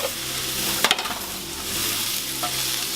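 Heated chicken pieces tossed into a hot frying pan, giving a steady close sizzle with a brief clatter of stirring near the start and a softer scrape later.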